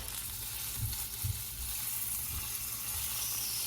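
Bacon sizzles in hot tallow in a pan, a steady fine crackling frying hiss with a low background hum, no talking.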